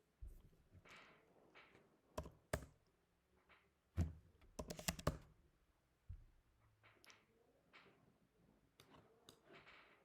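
A computer keyboard taps out terminal commands in quiet, close, irregular clicks, with scattered single keystrokes and short flurries broken by pauses and no voices.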